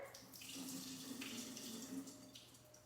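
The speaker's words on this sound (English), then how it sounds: "So I just poured off the water." Soaking water being poured off cashews into a kitchen sink, a steady close splashing stream running continuously for about three seconds with no talking.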